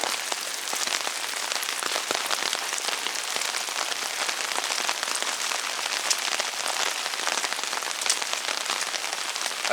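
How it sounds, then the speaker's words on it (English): Steady, dense hiss of rain falling and pattering on surfaces, loud and continuous throughout with no pauses. "Rain, rain, rain."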